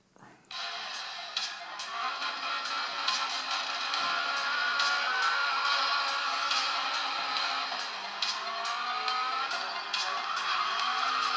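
Car racing in a mobile video game played on a Meizu MX4 phone: steady loud engine roar with repeated tire squeals and skids running continuously from start to finish.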